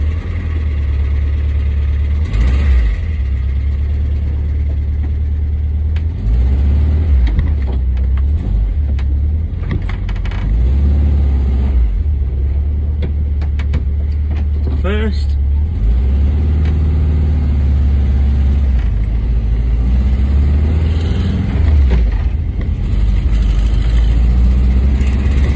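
A Volkswagen T2 campervan engine idling and then driving, a loud steady air-cooled rumble with repeated revs and shifts of pitch throughout, no talk.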